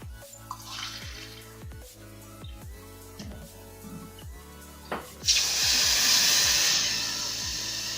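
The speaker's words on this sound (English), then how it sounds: "So at this point you can add your water." Water is poured into a hot pan of vegetable fried rice on medium-high heat, a sudden rushing splash and steady hiss breaking in after quiet kitchen clinks and scraping.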